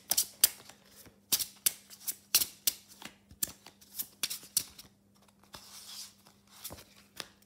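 Tarot cards being shuffled close up, a quick run of crisp flicking and riffling bursts in an irregular rhythm over a quiet room hum, with no talk.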